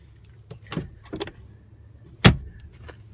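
Hand-cranked window on the door of a 2006 Ford F250 pickup, heard up close as a few short mechanical squeaks and clunks, ending in one sharp, louder knock as the glass or handle stops.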